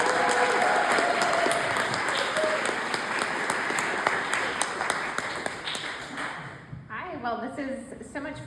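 An audience bursts into sustained applause welcoming a reverend at an evening talk in Laguna Beach, dense clapping that gradually thins and fades out over several seconds before a voice begins speaking.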